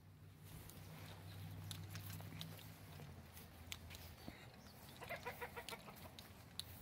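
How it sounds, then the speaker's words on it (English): Backyard chickens give soft, scattered clucks at close range, with a low steady hum early on and quiet rustling between the calls. "let's go check on the chickens"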